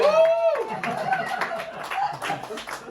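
Audience clapping and scattered cheering during a stand-up comedy set at a small Paris open mic, a burst of applause building over a few seconds with a voice talking over it.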